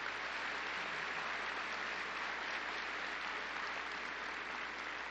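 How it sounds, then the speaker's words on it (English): Spontaneous applause from an audience of police chiefs at their international association's annual conference, a steady, uniform roar of many hands clapping that continues unbroken. "I'm going to tell him about the spontaneous applause before I even finished"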